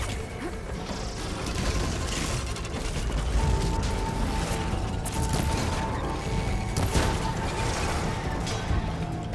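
Robotic machine creature from the game Horizon Forbidden West whirring and grinding with mechanical clanks and ratcheting creaks, loud and continuous, with heavy impacts mid-clip.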